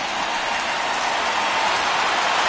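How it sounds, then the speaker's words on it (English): Steady rain falls on a baseball field in Chicago during a Cubs game, a dense, even hiss of drops that holds at the same loudness throughout, with no talk over it. "I don't know how much more rain this field can take"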